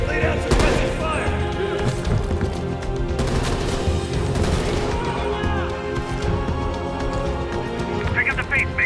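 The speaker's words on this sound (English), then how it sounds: "Lay down suppressing fire." Dense, continuous gunfire in Call of Duty Black Ops Cold War, rapid bursts and volleys filling the whole stretch with booms and crashes, loud and close, with battle voices shouting underneath.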